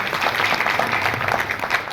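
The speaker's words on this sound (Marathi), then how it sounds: "सगळ्यांनी टाळ्या वाजवायच्या" A crowd at a devotional pilgrimage gathering claps, a steady dense wash of applause that is loud and continuous throughout, with no distinct voices rising above it.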